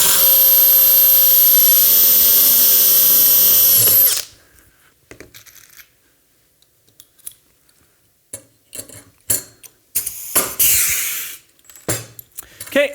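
A power drill bores rivet holes in a launcher front assembly, whining loudly and continuously for about four seconds before cutting off, followed by scattered clinks and light handling noises.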